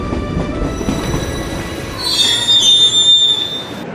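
A train rumbles along the rails, then wheels squeal loudly and shrilly for a couple of seconds before easing off.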